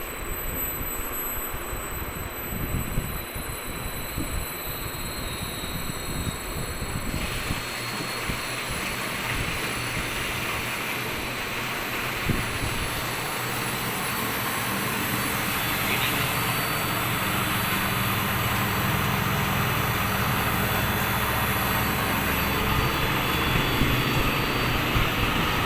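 A Francis turbine runs on a laboratory test rig, making a loud, continuous whirring roar with a steady hum; the tone shifts after several seconds and then holds strong and constant.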